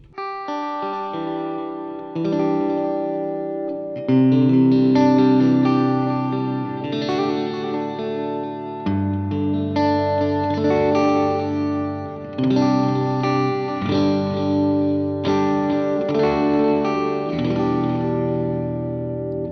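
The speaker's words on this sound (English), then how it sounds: "we added the chorus kind of sound on top of the delay plus reverb" A clean electric guitar plays chords and picked notes drenched in shimmering chorus, echoing delay and lush reverb, each strum trailing off into a wide, watery wash.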